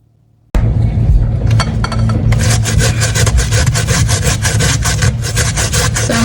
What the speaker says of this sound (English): grating my sweet potato